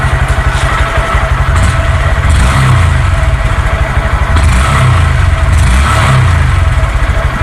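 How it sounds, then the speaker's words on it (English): Honda Grom motorcycle fitted with an SC Project exhaust, engine revving loud and close, a steady low throaty drone with repeated rises and falls in pitch, no talking. "Now when I rev the engine, let's see how it goes."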